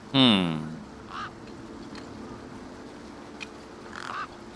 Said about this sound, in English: You see all these birds all over the place?